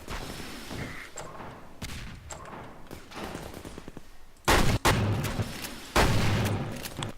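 Gunfire in the Half-Life 2 leaked beta game: a few quieter shots at first, then several loud, sharp blasts in quick succession with echoing tails, without speech.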